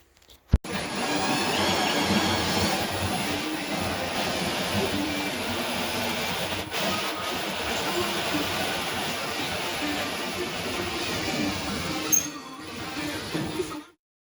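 A hole saw on a power drill cuts a circle through a ceiling for a can light, whining loud and steady for about thirteen seconds before spinning down, with a sharp click at the start.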